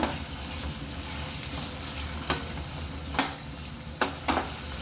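Chopped onion and tomato sizzle steadily in a pan, with a few soft clinks of stirring over the continuous frying hiss.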